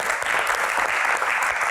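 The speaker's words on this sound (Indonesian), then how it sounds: "berikan tepuk tangan untuk para panelis yang sudah ada di sini" An audience claps for panelists at a Q&A event, producing dense, continuous applause that holds at an even level throughout without breaks.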